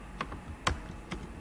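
Three separate keystroke taps on a computer keyboard, faint and spaced apart, with no talking.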